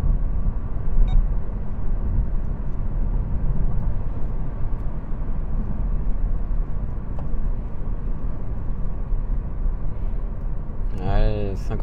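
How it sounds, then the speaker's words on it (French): An electric Fiat Grande Panda drives through rain, its steady broadband road and tyre rumble filling the cabin at a constant level, with a brief rising electronic chirp near the end. "une petite conduite dynamique sous la pluie"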